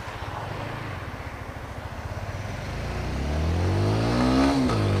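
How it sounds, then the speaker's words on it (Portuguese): A Dafra Apache RTR 200 motorcycle engine rumbles low and steady, then revs up, rising in pitch and loudness before easing slightly, heard close by. "o ronco do motor bem grave"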